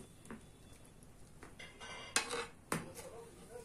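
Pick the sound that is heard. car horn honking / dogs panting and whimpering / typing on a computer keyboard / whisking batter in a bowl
whisking batter in a bowl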